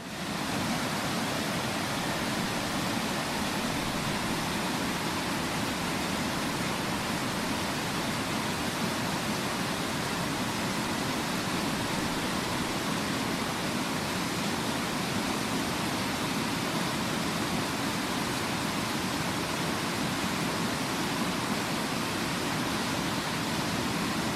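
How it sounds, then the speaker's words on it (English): Costa Rica waterfall roaring steadily, a dense unbroken rush of falling water that stays loud and even throughout, with no voices. "The first place visited was the waterfalls."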